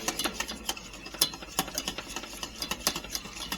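A spoon or whisk stirring ham gravy made from ham stock and rendered ham fat, with quick, irregular scraping and clinking strokes against the pan, close and clear with no talking.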